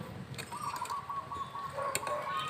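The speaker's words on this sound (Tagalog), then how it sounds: "Hindi na narinig niyo yun, ibon yun." A bird calls outdoors during an open-air meal, with a clear, sustained chirping tone and a few brief repeated notes over soft background ambience. No one talks.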